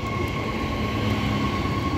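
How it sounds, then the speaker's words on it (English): Perth-bound electric train pulling away from platform 1 at Currambine station, a steady broad rumble with faint electric whine, continuous and close. "we have a Perth service now leaving platform 1."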